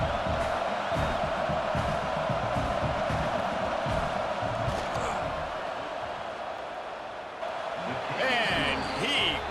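A stadium crowd in EA Sports College Football 26 roars in a steady, sustained wash during a field goal attempt, with a commentator talking over it and a brief rise of cheering near the end.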